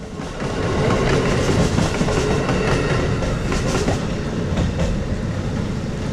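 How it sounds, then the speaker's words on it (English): Amtrak Regional train 67 rushes past westbound on Track 3 in a heavy downpour, a dense continuous roar of wheels and rail clatter blended with hissing rain, steady and close throughout. "In an absolute downpour, Amtrak Regional Train 67 skirts past westbound on Track 3."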